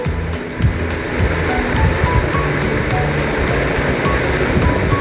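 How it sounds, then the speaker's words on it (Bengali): About 1.5 kg of uncooked rice pours into a cooking pot for ghee and garlic pilaf, giving a continuous, dense rushing hiss with scattered grainy patter, close and loud throughout. "এখন আমি চালটা দিয়ে দিচ্ছি।"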